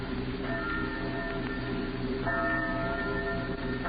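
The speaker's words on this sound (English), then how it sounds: "Church bells." Church bells ringing at night, steady sustained tolling tones under a constant low background hum, with a second strike entering partway through and no talk.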